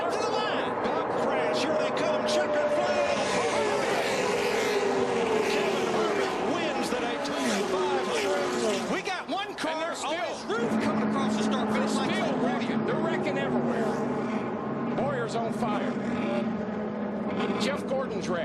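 NASCAR race cars roaring to the finish line in a crash-filled race, sustained loud engine drone with pitch sweeps as cars pass, under excited commentary throughout.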